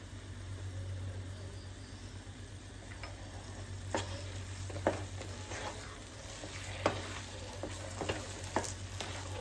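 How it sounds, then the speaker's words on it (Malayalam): Jackfruit halwa sizzles in ghee as a spoon stirs in cardamom powder, a steady soft frying hiss broken by occasional scraping clacks of the spoon against the pan. "ഇനി നമുക്കതിൽ ഏലക്കായ പൊടിയിട്ട് ഇളക്കാം."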